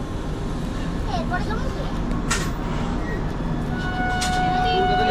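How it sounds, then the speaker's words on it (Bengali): Steady low rumble of the Kolkata–Jammu Tawi Express standing at a busy platform at Katwa Junction, with a hubbub of voices and occasional faint metallic squeals. "আমাদের ট্রেন কাটুয়া জংশনে চলে এসছে"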